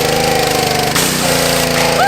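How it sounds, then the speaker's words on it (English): Loud, steady engine-driven drone of a gas pressure washer spraying an old abandoned limousine, with a sharp shift partway through as the spray pattern changes. "Activate pressure washer"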